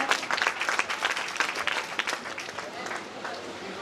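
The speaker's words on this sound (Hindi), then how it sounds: "सर का स्वागत तालियों के साथ किया जाए" An audience at a school annual function claps to welcome a teacher, with lively, uneven clapping from many hands that is strongest at first and then gradually thins.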